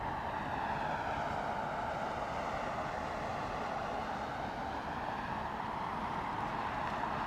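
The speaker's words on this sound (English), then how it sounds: "I think the APU is running" An aircraft auxiliary power unit running at Heathrow Airport, a steady continuous whine and roar that holds evenly throughout at moderate distance.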